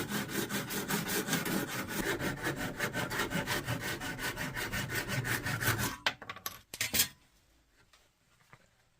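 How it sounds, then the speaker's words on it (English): Rapid, rhythmic rasping strokes of a spokeshave pare back an overhanging wood edge on a pre-1900 golf club, close and steady for several seconds before a few final scrapes and quiet. "we'll spoke shave this overhang here, and use a chisel for this side"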